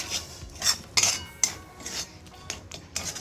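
A utensil scrapes and knocks against a pan while coconut modak filling is stirred, making irregular metallic scrapes and clinks in short bursts, close and moderately loud.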